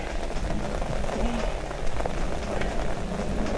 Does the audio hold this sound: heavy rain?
yes